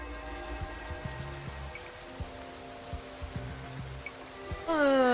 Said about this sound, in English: The rain in this game is kind of cozy.